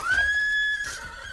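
A horse neighs once as a sound effect in an audio drama, a loud close whinny with a rising, sustained tone that breaks into a shorter snort-like tail.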